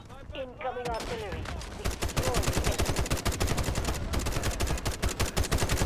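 Rapid automatic gunfire from the video game Delta Force Hawk Ops erupts in dense, loud bursts that grow continuous in the second half, after a brief voice at the start.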